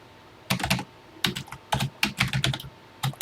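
Keys on a TI-99/4A computer keyboard are typed in quick close bursts of clacks, separated by short pauses, in a quiet room with no talking.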